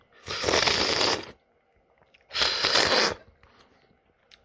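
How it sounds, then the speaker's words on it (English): Two long, noisy slurps of a traditional sour cacao drink, each about a second, with a short pause between them and quiet afterward. "I slurped it."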